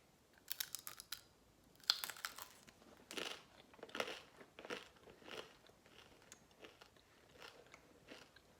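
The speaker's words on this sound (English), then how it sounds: "I'm about to try my first bite of hardtack." Crunchy bites and chewing of a hard, dry Civil War hardtack cracker, a series of sharp cracks followed by softer chomping, close and quiet with no talk.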